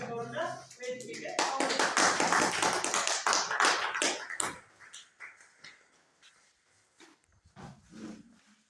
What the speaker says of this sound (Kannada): ತಾವೆಲ್ಲ ಚಪ್ಪಾಳೆ ಮೂಲಕ ಏನ್ ಮಾಡ್ಬೇಕು, ಅವ್ರನ್ನ ವೇದಿಕೆಗೆ